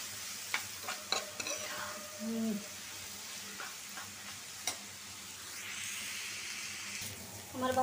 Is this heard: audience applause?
no